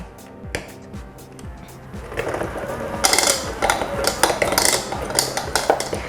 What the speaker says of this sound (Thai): ตีเนยพอแตกตัวนะคะ ใช้เนยเย็นแต่ว่านิ่มๆนะคะ